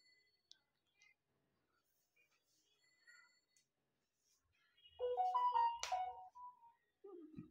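A mobile phone rings in a classroom, a short, tonal melodic ring that is clear against quiet surroundings, with faint low voices under it.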